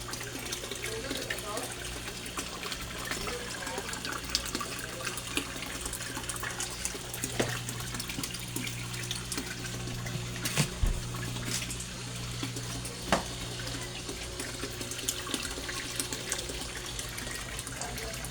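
Small 34-watt submersible pump moving water in a backyard koi fish pond, giving a faint, continuous trickling and splashing flow with occasional soft drips and bumps, steady throughout.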